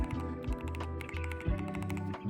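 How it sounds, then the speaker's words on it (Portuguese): Gateron switches are typed on a newly built GMK67 custom mechanical keyboard, producing a steady, close run of rapid clacking keystrokes. "Esse é o som dos switches"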